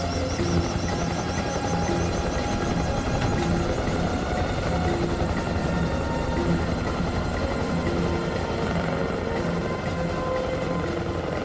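A helicopter taking off, its rotor and engine making a loud, steady droning thrum with a constant whine that lasts throughout, and no voices.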